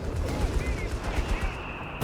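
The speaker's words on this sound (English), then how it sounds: "Vickers fire, there we go" Rapid bursts of Vickers machine gun fire in the video game Company of Heroes 3, a continuous rattling stream of shots layered over rumbling battle noise, with a sharp cut at the end.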